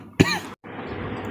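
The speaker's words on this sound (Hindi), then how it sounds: "बार बार बोलने का प्रयास करते हो तो खांसी बहुत ज़्यादा आ जा रही है" A single short, harsh cough from a man, close to the microphone, followed by a brief silence and then quiet room noise.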